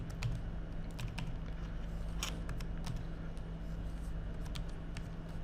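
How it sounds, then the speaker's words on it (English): Typing on a computer keyboard, a quick, uneven run of light clicking keystrokes close by over a steady low background hum. "I'll just type in these model numbers here."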